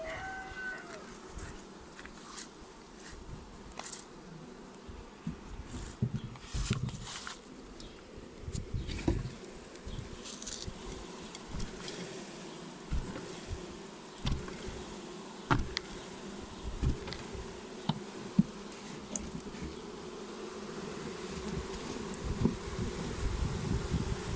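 A swarm of honey bees at a hive being shaken in, with dense continuous buzzing close by, scattered knocks and handling noises, and a rooster crowing faintly in the distance.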